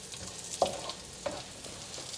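Lemongrass and ginger slices frying in melted vegan butter mixed with grapeseed oil, a steady soft sizzle with a couple of sharp stir clicks, close and alone.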